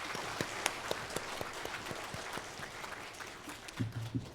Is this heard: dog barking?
no